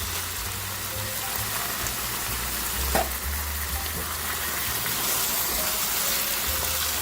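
Tomatoes go into a pot of no-bean chili, which keeps up a steady, close, hissing sizzle throughout with a single soft clunk partway through.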